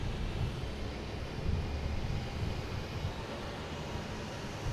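A JetBlue Airbus A321neo airliner bound for London Heathrow sits lined up on the runway at Boston Logan, its engines a steady, broad rumble with wind noise, continuous and even throughout, with no talk.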